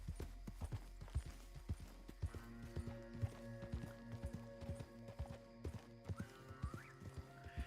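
Horse hooves clip-clop steadily along a road in Red Dead Redemption 2, a brisk close rhythm of repeated hoofbeats with a low tonal drone of game music or ambience underneath.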